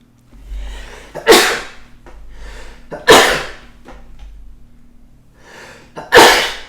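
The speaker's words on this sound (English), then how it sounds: "I'm going to sneeze." Three sharp sneezes burst out at roughly even intervals, each preceded by a quieter inhaling buildup, close and loud against a near-silent room with a low steady hum.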